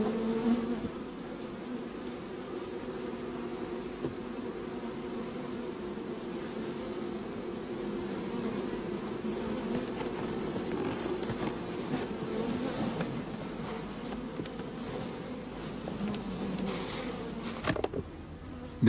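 Honey bees buzz steadily and densely around open hive frames during a rotating-system hive inspection, a continuous close insect drone with no voices.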